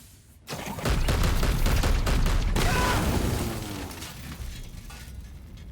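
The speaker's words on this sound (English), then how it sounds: "Okay, that was a bit bigger of an explosion than I expected." A large explosion in the video game Warhammer 40,000: Chaos Gate - Daemonhunters: a sharp blast followed by loud, sustained rumbling and crackling debris that slowly fades out over several seconds.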